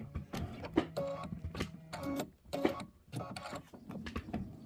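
An embroidery machine stitching out a butterfly quilt block, giving a close, busy mechanical whir broken by repeated short bursts and pauses, with a steady motor hum beneath.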